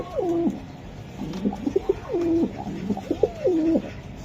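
Racer pigeons coo in a short series of repeated rolling calls, close and clear, with no talking.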